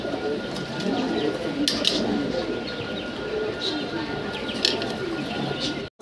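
Pigeons offered in a wholesale lot coo softly throughout, with a few sharp chirps and flutters over a constant background murmur that cuts off abruptly at the end.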